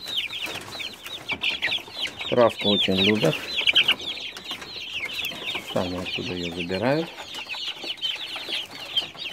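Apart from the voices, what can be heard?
young chickens clucking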